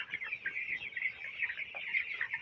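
A flock of 18-day-old broiler chickens on a farm keeps up a steady, dense chorus of high clucking and peeping, close and continuous with no talk.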